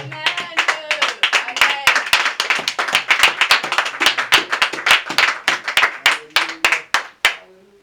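A church congregation claps in acclaim, a dense run of sharp, steady hand claps that builds and holds for several seconds, loud and close, then breaks off abruptly at the end.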